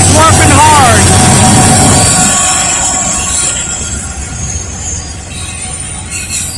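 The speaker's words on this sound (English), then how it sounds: "The train came by real slowly, but now he's picked up speed." A Norfolk Southern freight train rolls past at a station, wheels squealing early on, with a loud rumbling roar that gradually recedes as it picks up speed.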